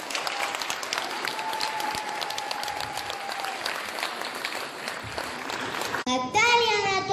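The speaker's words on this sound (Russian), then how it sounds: "Еще раз океан аплодисментов." A concert audience at a folk orchestra performance applauds in a full, sustained roar after a young violinist plays, then the clapping breaks off as a voice begins speaking at the end.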